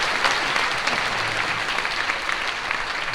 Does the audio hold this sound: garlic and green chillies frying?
no